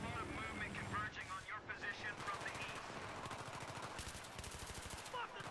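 A Little Bird helicopter thrums through a Battlefield 3 game battle while rapid machine-gun bursts and scattered gunfire rattle steadily, with voices talking over the combat.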